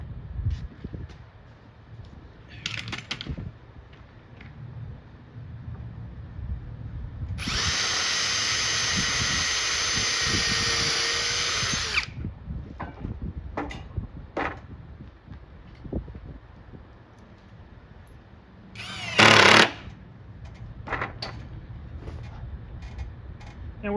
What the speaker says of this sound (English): Grab my drills.